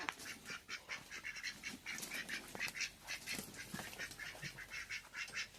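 Chatter and calls from a flock of chickens and chicks, with overlapping clucks and peeps in an irregular stream, fairly faint and without talk.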